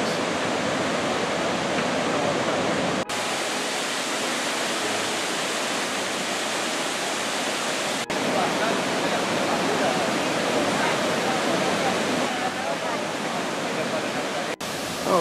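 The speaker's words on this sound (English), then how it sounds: "So this certainly is some of the more dramatic part of the falls." A dramatic stretch of waterfall in Argentina roars in a dense, unbroken wash of sound, loud and steady throughout with no voices.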